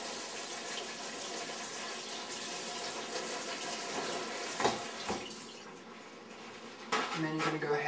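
Fruit being rinsed under a running kitchen tap for a fruit medley, a steady wash of water with dish and utensil clatter over it, and a few louder knocks near the end.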